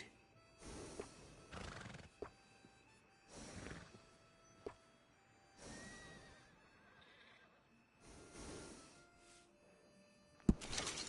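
A horse whinnies repeatedly in long, breathy neighs, with occasional hoof knocks and a sharp thud near the end.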